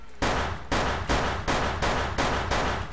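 Gunfire in a video game: six sharp, loud shots cracking at an even, fairly quick pace, each followed by a short decay, with no voices.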